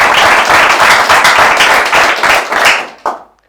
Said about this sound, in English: Everyone, clap it up for Ruth Evon